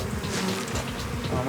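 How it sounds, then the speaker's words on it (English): A dense swarm of killer bees in a wall hive buzzes loudly and continuously at close range, a thick droning hum with no breaks or voices. "The smoke worked well on these bees to calm them down."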